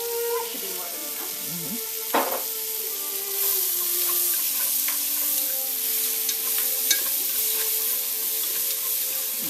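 Mushrooms with a spoonful of sugar sizzle steadily in a hot pan while being stirred, a bright continuous fry with a sharp clatter of the utensil near the start and occasional scrapes throughout.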